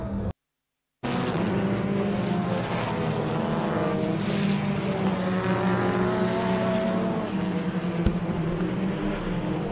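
Race cars roll around the Zwartkops International Raceway circuit at the MSA National Extreme Festival, a continuous engine drone under a low hum that holds steady for several seconds after a brief dropout at the start.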